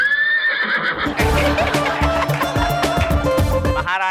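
A horse neighs at the start of a comedy skit on a TV show, followed by a loud burst of music and crowd noise, and a short whinny returns at the very end.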